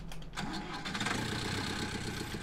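A Zetor tractor's engine cranks and catches in Farming Simulator 19, a short starter whir settling into a steady, moderately quiet diesel chug.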